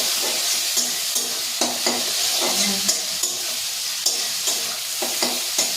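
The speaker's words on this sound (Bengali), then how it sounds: "চিংড়ি মাছটা ভাজা হচ্ছে" Turmeric-coated local shrimp fry in a pan, a steady loud sizzle broken by regular clinks and scrapes of a stirring utensil, with no talking.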